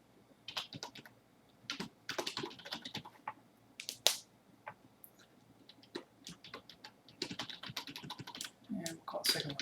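Rapid typing on a computer keyboard, bursts of crisp, close key clicks in uneven runs with brief pauses, fairly quiet and continuous without talk.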